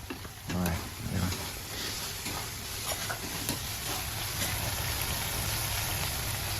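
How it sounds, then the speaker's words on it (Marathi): Onion bhaji fritters frying in hot oil give a dense, steady sizzle close up, with faint background voices talking underneath. "भजी काढायला चालल्या कांदा भजी"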